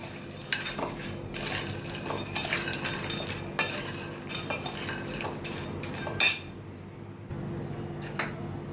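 Metal spoon scrapes and clinks against a bowl as spices are stirred into macaroni, busy irregular tapping and scraping close by with a few sharper clinks.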